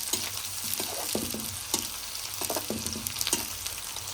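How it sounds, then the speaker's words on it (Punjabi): Chopped onions frying and sizzling in oil for paneer bhurji, with a steady sizzle broken by repeated scraping clacks of a ladle stirring the pan, close and fairly loud, no talking. "ਉਸ ਤੋਂ ਬਾਅਦ ਅਸੀਂ ਪਿਆਜ਼ ਐਡ ਕਰਾਂਗੇ ਪਿਆਜ਼ ਨੂੰ ਅਸੀਂ ਡਾਰਕ ਬ੍ਰਾਊਨ ਨਹੀਂ ਕਰਨਾ ਲਾਈਟ ਬ੍ਰਾਊਨ ਹੀ ਰੱਖਣਾ"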